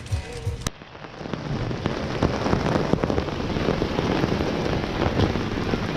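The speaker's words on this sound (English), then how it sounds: "the rain is running off it." Rain patters onto a camping awning at a campsite, a dense crackling spatter of drops hitting close by, steady and fairly loud after a brief quieter moment at the start.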